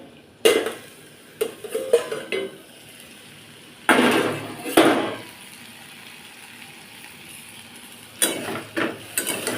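A metal spatula scrapes and clatters against a pan while stirring potato fry seasoned with turmeric, coming in several irregular bursts of close, sharp scraping separated by quieter pauses.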